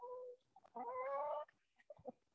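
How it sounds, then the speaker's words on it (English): Chickens in a farm coop cluck and call in short, nasal bursts, one drawn-out call in the middle and scattered quick clucks near by, with no talk. "So this is the chicken coop and coming into the egg place."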